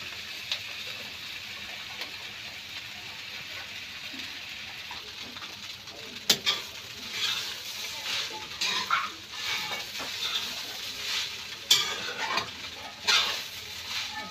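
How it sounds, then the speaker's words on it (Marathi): Poha (flattened rice) is roasted and stirred in a pan, giving a faint continuous dry sizzle. A few sharp scraping and tapping strokes of the spoon against the pan come in the second half. "असं छानपैकी आता भाजून घेऊया। ह्याला मिक्स करूया सगळं।"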